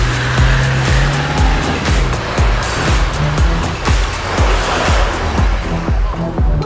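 An old Volkswagen Touareg races off on an off-road course, its loud engine roaring steadily with rhythmic thumps and rumble throughout, close and continuous.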